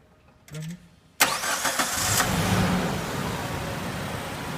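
A Chevrolet car engine cranks briefly with a whirring starter, then catches and roars up loudly before settling into a steady idle. A short separate noise comes just before the start.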